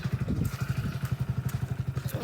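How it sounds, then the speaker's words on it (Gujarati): A motorcycle engine idles after starting, a close, low rhythmic chug of evenly spaced pulses running steadily on its own with no talking. "બધા બાઈક ચાલુ કરી દીધું."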